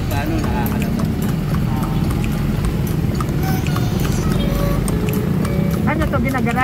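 Horse hooves clip-clop steadily beneath a horse-drawn kalesa carriage on the streets of Manila, a close, even rhythm over road and traffic noise, with people talking throughout.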